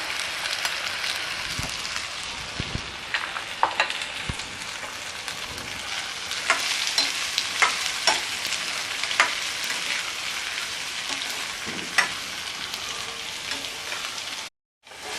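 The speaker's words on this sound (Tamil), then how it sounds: "இப்போ கொஞ்சம் சட்டியில் எண்ணெய் ஊற்றிக்கோங்க, மாங்காய் போட்டுக்கோங்க." Raw mango pieces frying in oil in a kadai for pickle, a dense, steady sizzle heard close up with scraping stir strokes throughout, and no talk.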